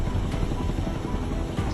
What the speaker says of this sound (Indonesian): Formasi operasi khusus besar yang terdiri dari helikopter angkut besar, helikopter Black Hawk, dan helikopter serang Apache melakukan penerbangan panjang lurus di atas Caracas.